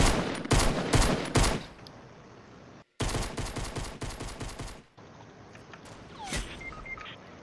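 Rapid bursts of gunfire and sniper shots from the Fortnite video game, loud and close, coming in dense volleys separated by a brief silence, then quieter scattered shots and effects.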